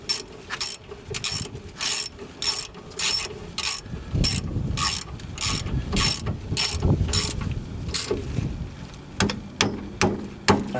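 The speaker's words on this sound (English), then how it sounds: "Take your 14mm socket wrench, or 14mm socket with a wrench. Go ahead and tighten it on." Ratcheting 14mm socket wrench tightening a bolt on the rear brake of a 2011–2015 Kia Sportage, sharp repeated clicking in regular bursts, close and loud, alone.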